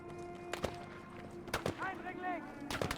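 Gunfire aimed at the player in Battlefield V, a few sharp cracking shots at about half a second, one and a half seconds and near the end, set against game ambience and a voice speaking.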